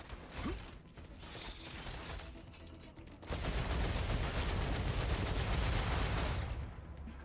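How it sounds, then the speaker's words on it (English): Magazine change during a reload in the video game Star Rupture, mechanical clicks and clatter close by, set against loud, continuous game noise that swells partway through. "Changing mags."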